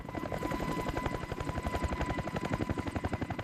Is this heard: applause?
no